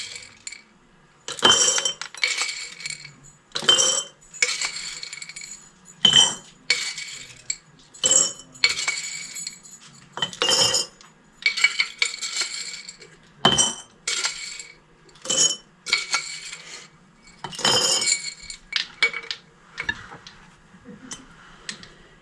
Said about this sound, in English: I'm going to add 2 tablespoons extra of the navy beans